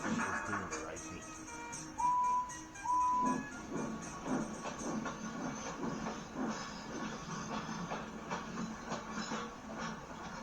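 A steam locomotive chugs along in a steady rhythmic puff with hissing steam, two short whistle toots sounding early on.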